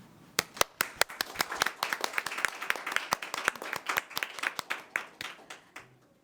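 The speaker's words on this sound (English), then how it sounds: "Please give a big round of applause to Ms. Kinya and all distinguished speakers for panel 1." Applause at a dispute-resolution forum after a panel session, with a few distinct nearby handclaps in a loose, uneven rhythm rather than a dense roar, fading out near the end.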